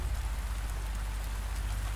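Steady rain pours down nearby, a dense, continuous hiss with a low rumbling undertone and no pauses or voices.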